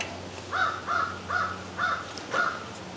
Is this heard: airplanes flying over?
no